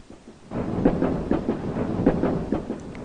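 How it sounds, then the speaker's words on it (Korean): A train runs in a story game, its rolling rumble starting after a brief quiet moment and continuing with a steady, rhythmic clatter at moderate loudness, with no voices. "이 열차는 제7호차다."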